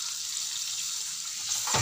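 Half a cup of water pours into a cooking pan of tomatoes, black pepper and cumin for a sour eggplant dish, a steady close hiss and splash that swells near the end.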